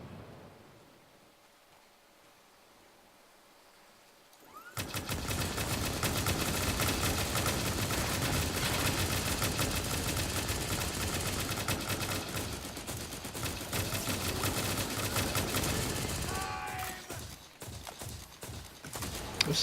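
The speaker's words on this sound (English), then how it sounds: "I have like a machine gun of some sort." Sustained machine gun fire in the video game Firefall: after a few quiet seconds, a loud, dense burst of rapid shots runs for about twelve seconds, then breaks into scattered cracks near the end.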